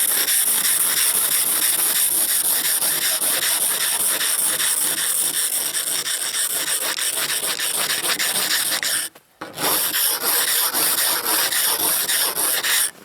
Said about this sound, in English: I'm just scraping off the worst of it, the surface coating, so that I can get a little bit of sunlight through